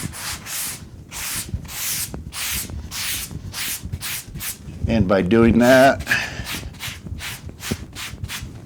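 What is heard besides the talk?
sanding drywall with sanding sponge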